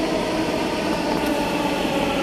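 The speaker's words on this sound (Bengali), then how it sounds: "এই দেখো ট্রেন কিভাবে আসতেছে" A Dhaka Metro Rail train pulls into a station platform with a steady, loud rumbling roar of wheels and motors, broad and continuous throughout with no voices.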